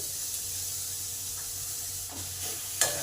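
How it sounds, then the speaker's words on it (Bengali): Chhana paneer and potatoes frying together in a pan, a steady hiss and sizzle with a few soft scraping stirs and a brief louder clatter near the end, close and without talk. "এই পনিরটা একটু আলুর সঙ্গে ভালো করে মিশিয়ে নিতে হবে।"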